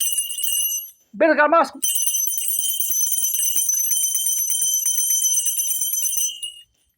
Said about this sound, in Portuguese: 1 sino, 2 sinos e 3 sinos. Qual que é mais alto?